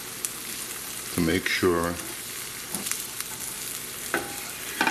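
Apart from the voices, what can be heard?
spatula scraping bottom of non-stick pan with sausage omelet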